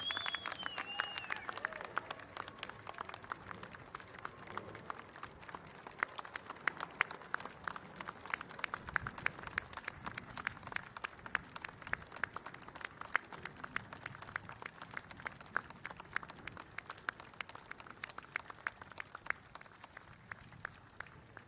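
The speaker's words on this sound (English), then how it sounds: "One more round of applause for all our World War II veterans." A crowd at a V-J Day 80th anniversary commemoration gives World War II veterans a long round of applause, faint and distant, a steady crackle of many hands that keeps going throughout with no talking.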